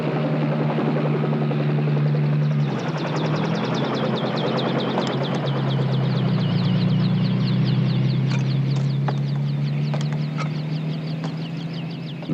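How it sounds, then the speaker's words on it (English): A helicopter flies in difficult weather over a barren Antarctic hill, giving a loud, steady rotor and engine drone throughout, with a low pulsing hum and faint higher chirps above it. "the helicopter flown by Bob McKeegan delivers Captain Cousteau to a barren hill"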